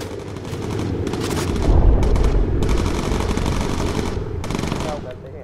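Anti-aircraft flak fire in the bomber video game Bomber Crew, a dense, loud, continuous rattle of rapid bursts and booms that swells and fades over a few seconds.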